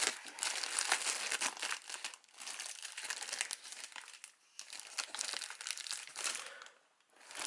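Crinkly plastic and cardboard packaging on a boxed Lightning Collection Power Rangers RPM Yellow Ranger figure is torn and crumpled up close, a busy stream of crackles and rips with a couple of brief pauses.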